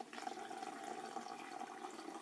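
Water runs steadily out of the open bottom end of an unclipped feeding tube, a soft continuous trickle and splatter, faint and alone.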